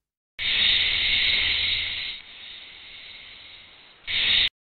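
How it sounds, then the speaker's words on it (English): A snake hisses in one long, steady, loud breathy rush that eases softer partway through, then surges back strong before stopping abruptly. "Snake."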